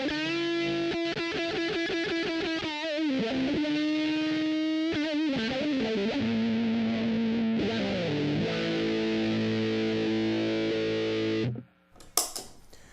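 An electric guitar plays through a Deep Trip Hellbender fuzz pedal, giving thick, buzzing distorted notes and sustained chords with bends, which ring out loud and alone before cutting off abruptly near the end.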